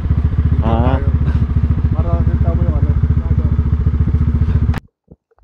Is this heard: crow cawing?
no